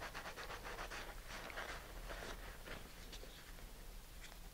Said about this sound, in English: I can rub the wax off.